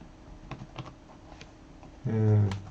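Someone typing on a computer keyboard: a few faint, scattered keystroke clicks, then a louder, humming, voice-like tone near the end.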